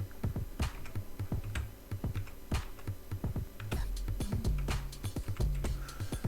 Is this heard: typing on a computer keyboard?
yes